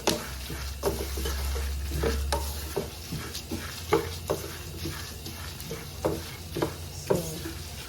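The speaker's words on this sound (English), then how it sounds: "It's roasting now, that is why it's making that noise." Egusi melon seeds roasting and being stirred in a pan, a soft continuous sizzle broken by regular scraping strokes of the spoon, close and moderately quiet.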